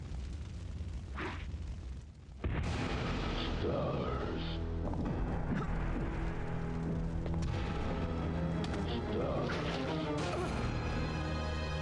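Rocket launcher fire in Resident Evil 3 Nemesis, a sudden heavy boom that gives way to a sustained roaring rumble of explosions and debris, with a person talking over it.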